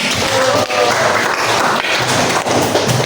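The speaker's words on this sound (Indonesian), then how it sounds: "Tepuk tangan dulu lah." A classroom of students claps for a classmate, a dense, steady burst of applause that fills the whole stretch with a few thumps mixed in.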